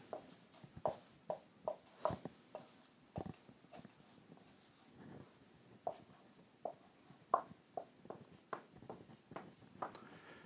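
Pen or pencil writing the digits 1 to 9 by hand on paper, faint scratchy strokes and taps in irregular short bursts, close and quiet with no talking.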